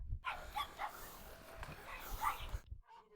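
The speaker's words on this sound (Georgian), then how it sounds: "ჩემი წყემსი ძაღლი" A shepherd dog barks and yips in short bursts, fairly close, with a whimpering edge and faint voices around it.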